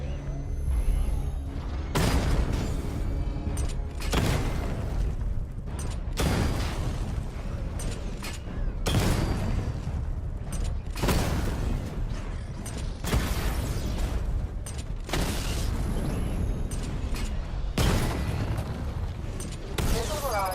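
Missile barrage explosions in a Batman PS4 game boom repeatedly in heavy, evenly spaced blasts, each a loud broadband burst over a constant mechanical rumble.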